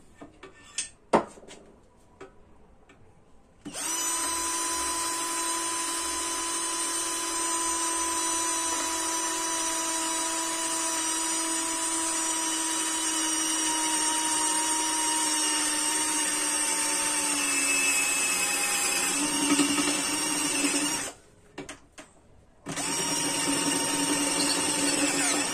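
A Vonder cordless drill driver runs steadily while drilling with a 10 mm Irwin bit, a loud continuous whine with a few brief handling knocks before it starts and a short stop before it resumes near the end.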